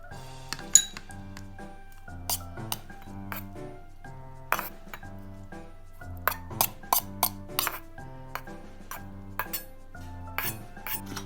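Metal utensil clinking and scraping against a bowl while ingredients for miso green-onion bread are mixed, a steady run of close, bright taps and clinks with short pauses.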